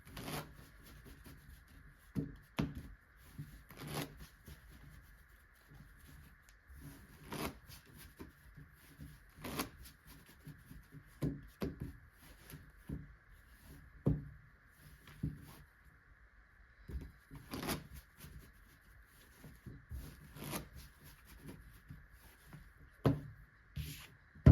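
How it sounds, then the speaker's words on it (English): Playing cards being shuffled for a double-deck blackjack card-counting test, with repeated riffle bursts and clicks. The shuffles come at irregular intervals over a quiet room background, close and moderately soft, with no talking. "So going to go ahead and shuffle these up real quick."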